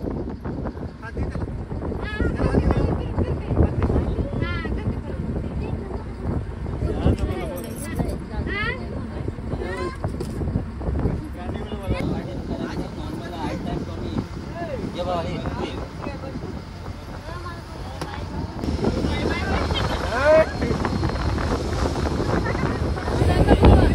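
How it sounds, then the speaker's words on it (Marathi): A boat carries riders over the water on a coastal trip in the Konkan near Sindhudurg, with engine and water rush buffeted by strong wind, while people talk and call out throughout. "चला आता आपण बसलो दुसऱ्या बोटमध्ये आणि इथून चाललोय रायडिंग करायला."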